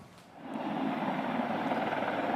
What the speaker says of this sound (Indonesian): Sebuah helikopter milik militer Israel mendarat di dekat perbatasan Gaza, bersiap menerima sandera yang ditawan Hamas.